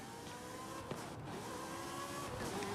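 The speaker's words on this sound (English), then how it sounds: "These Ferraris sound really mean." A Ferrari engine from the racing game Forza Horizon 5 drones steadily and loudly throughout, a continuous mechanical hum with shifting pitch and no voices.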